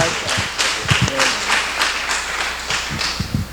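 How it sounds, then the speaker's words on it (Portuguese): Congregation applauding Jesus at a church graduation ceremony, with a broad wash of clapping rising and falling over several seconds and voices and cheers mixed in underneath. "Vamos dar uma salva de palmas para Jesus"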